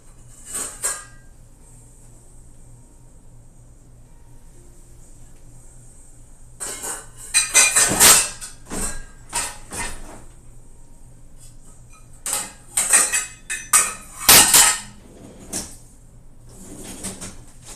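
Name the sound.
searching through pots and pans for a small pan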